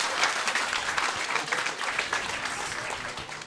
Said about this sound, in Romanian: Un rând de aplauze spre vindecarea acestei mânuțe.